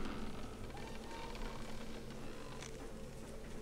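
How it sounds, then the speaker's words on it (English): A creaking sound effect from the Planet Coaster theme park game makes faint, grinding mechanical creaks over a low steady background, with no speech. "Creaking sound first."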